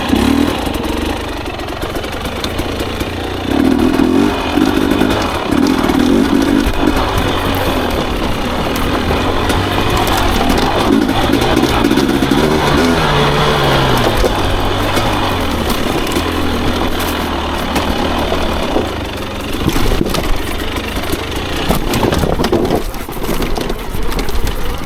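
A Beta enduro motorcycle engine idles steadily and fairly loudly for the whole stretch, a continuous mid-pitched running drone mixed with a hiss like rain.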